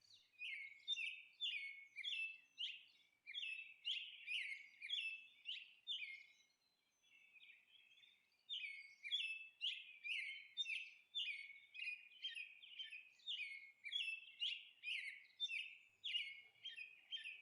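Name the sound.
parrot calls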